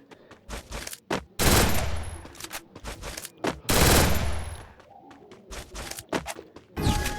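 MP40 submachine gun fire in the mobile shooter Free Fire, with loud bursts of rapid automatic shots alternating with shorter volleys and brief gaps, close and dominant throughout.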